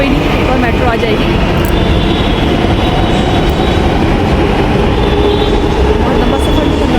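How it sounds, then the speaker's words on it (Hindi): A metro train departs, rumbling loudly and continuously nearby, with rhythmic wheel clatter and a faint high whine over a steady roar. "बस सामने से मेट्रो चली गई।"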